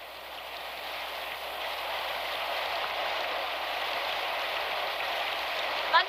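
Steady heavy rain pours down in a continuous soft hiss, moderately quiet and even throughout, with no voices.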